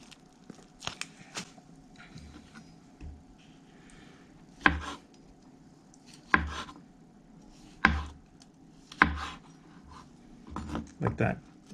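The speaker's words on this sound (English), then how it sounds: "Now to slice these mushrooms." A knife slicing mushrooms on a cutting board for beef stroganoff, sharp thuds of the blade striking the board spaced a second or two apart, with softer rubbing and handling sounds between, close and clear.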